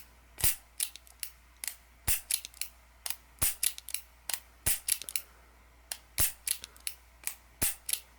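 Sharp metallic clicks repeat in close succession, paired snaps of a Ruger SP101 revolver's hammer and transfer bar being worked slowly with a hitch, up close and fairly quiet.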